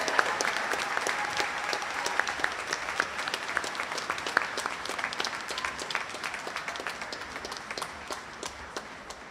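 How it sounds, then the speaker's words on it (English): A room full of people applauds graduates at a Class of 2025 secondary school graduation ceremony, a dense, sustained wash of clapping at steady loudness for several seconds, easing slightly toward the end. "Please give all of our graduates a warm applause for their accomplishments."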